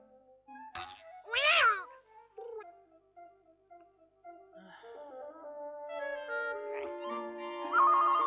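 A cat meows several times, drawn-out plaintive cries rising and falling, close by with quiet gaps between them.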